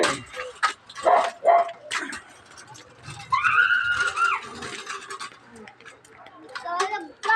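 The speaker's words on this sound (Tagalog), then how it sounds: "ang ingay na mga aso na ito" Several dogs bark and yip at a home, some sharp close barks early on and a longer whining, howling stretch in the middle, heard in between and under casual talking.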